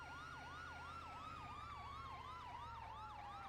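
An emergency vehicle siren in a roleplay video game wails in a fast, repeating up-and-down yelp over a low engine rumble, steady and continuous with no talk.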